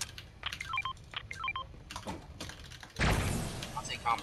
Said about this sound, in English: how loud is this keyboard?